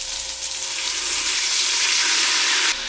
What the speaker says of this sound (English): So now I will add 2 teaspoons of Worcestershire sauce and 2 teaspoons of soy sauce.